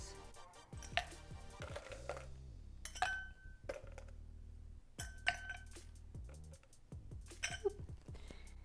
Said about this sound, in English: Let's get some ice in our glass.